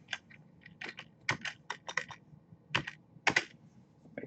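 Computer keyboard keys clack in irregular bursts, close and fairly quiet, as someone types into a word processor document during a lecture, with no voices.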